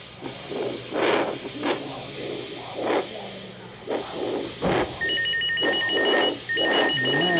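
Telephone ringing in a hospital procedure room, repeated electronic ring bursts over a steady hum and hiss, with brief voices and clinking nearby.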